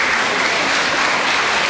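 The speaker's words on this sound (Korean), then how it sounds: "큰 박수 부탁드립니다" Loud, dense applause from an anniversary commemoration concert audience welcoming a vocal ensemble, a continuous roar of many hands clapping close and steady with no gaps.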